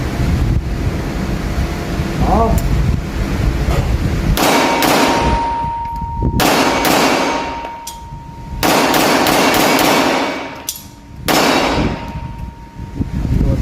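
A CZ Shadow 2 pistol fires Thaiarms 9mm 135-grain lead round nose rounds outdoors, several loud, sharp reports spaced a second or two apart with ringing decay, over steady wind rumble on the microphone.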